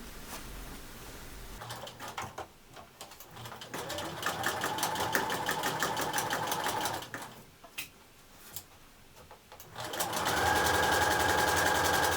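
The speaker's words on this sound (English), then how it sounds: "now I will continue sewing" A sewing machine stitches fabric in a small home fabric-store workroom, running in steady whirring bursts with short pauses between them, close and fairly loud, ending in a longer sustained run.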